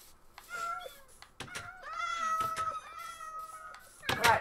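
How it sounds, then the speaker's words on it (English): Several Minecraft cats meow in quick succession, their calls overlapping near the listener, with a louder burst of game sound closing it out. "Alright, enough cats"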